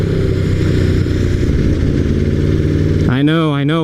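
An Aprilia RSV4R motorcycle fitted with a GPR Thunder Slash exhaust idles loudly in traffic with a steady, lumpy rumble, then revs up sharply near the end.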